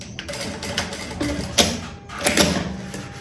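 A sewing machine stitches a fabric pencil case, its mechanism running in short uneven bursts of rapid clattering and ticking at close range, with no voices.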